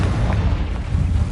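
Confringo spell explosion in a video game: a continuous loud, deep rumbling boom filling the moment, with no voice over it.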